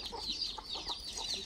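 A free-range village chicken on a farm gives a few soft, quick clucks close by, over quiet background noise.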